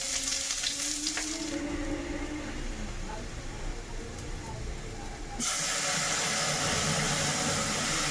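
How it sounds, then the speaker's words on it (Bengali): Cumin and chopped onion go into hot oil to temper lentils: a steady hiss builds, then a sudden loud, close burst of frying sizzle breaks out and continues to the end. "ডালের মধ্যে এখন ফোড়ন দিচ্ছি, জিরে আর হচ্ছে এই যে পেঁয়াজ"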